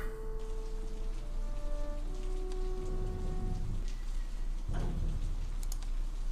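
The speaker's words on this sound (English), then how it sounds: "It's raining." Rain in the strategy video game Order of Battle: a steady, dense patter of raindrops across the whole stretch, with faint tonal interface notes early on and a brief louder swell near the end, no talking.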